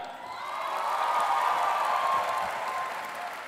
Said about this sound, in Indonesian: Selanjutnya tepuk tangan untuk Fakultas Syariah